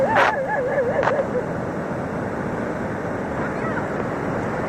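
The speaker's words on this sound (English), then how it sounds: "look at this monsoon sea." Monsoon sea surf rolling onto a beach, a steady broad wash of waves mixed with wind buffeting the microphone, with a brief high whistle-like tone near the start.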